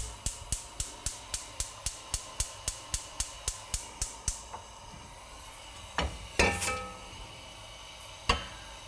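Whole coriander and cumin seeds rattle and crackle in a hot pan over high heat, a steady series of sharp ticks as they are tossed, then a few louder scrapes and clatters of the pan.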